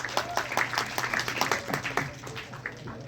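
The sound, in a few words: audience applause for Bhushan ji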